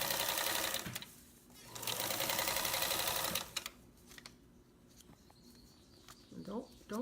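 A sewing machine bastes fabric close to the edge, running in a loud, steady stitching whir for a few seconds, then stopping and giving way to quieter handling sounds and a few short stitch bursts.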